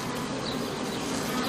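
Bees buzz around lavender beside a big house, a dense steady hum that is close and continuous for the whole short stretch, with no voices.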